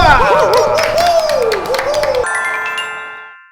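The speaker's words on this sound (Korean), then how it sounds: "박수!" Studio audience clapping on a Korean food competition show, a dense burst of applause mixed with bright chime-like sound effects that rings out and fades over a few seconds.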